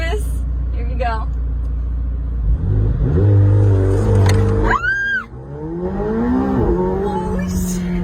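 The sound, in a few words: supercar accelerating at full throttle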